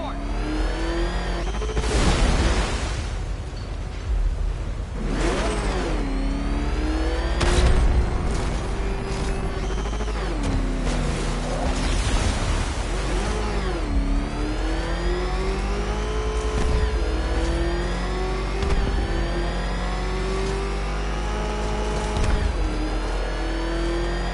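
Batmobile driving in the video game Arkham Knight on a timed course, engine revving and roaring loudly and continuously with rising and falling pitch sweeps, booms and skids, mostly without talk.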